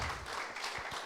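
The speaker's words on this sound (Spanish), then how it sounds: "Podemos dar un aplauso a Dios que Él pone todos sus medios" A church congregation claps during a worship service. The applause is faint, close-packed and lasts only about a second.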